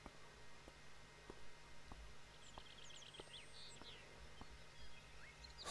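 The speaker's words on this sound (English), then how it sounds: "The bird is making noise over there" A bird in the game Beyond Eyes gives a series of faint high chirps and twitters in the distance, over a quiet ambient bed with soft regular ticks of footsteps or clicks.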